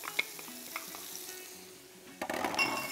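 Chopped onion hitting bacon grease in a pan for cowboy beans: a quiet low sizzle with light utensil ticks, then a louder burst of crackling fry as the pieces go in near the end.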